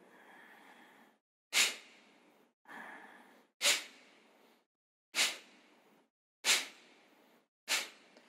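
Kapalbhati pranayama breathing: a soft drawn inhale alternates with sharp, forceful nasal exhales, six strong bursts spaced about a second apart, close and clear with quiet gaps between them.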